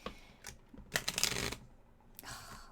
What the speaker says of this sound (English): It was a bad shuffle.